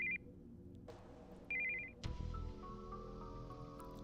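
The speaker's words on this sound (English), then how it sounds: "We heard the sound of an incoming call on a cell phone." An incoming-call ringtone from a cell phone in the Steins;Gate 0 visual novel chirps in two short electronic bursts, followed by a thud and a low, sustained musical drone.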